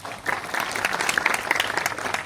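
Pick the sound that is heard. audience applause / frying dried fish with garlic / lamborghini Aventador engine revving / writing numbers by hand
audience applause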